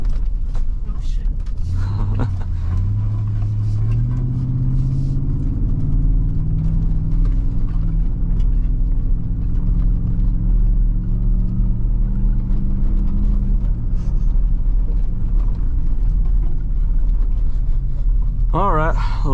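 A 2024 Ford Raptor R truck engine revs while driving off-road, a loud, deep rumble sweeping up in pitch and holding steady near the listener, with some wind and cabin noise and brief talk toward the end.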